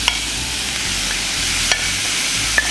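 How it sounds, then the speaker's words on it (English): Minced beef frying in a pan for Nigerian meat pie filling, a constant crackling sizzle up close with a couple of brief utensil clicks, no voices. "So at this stage, the minced beef goes in."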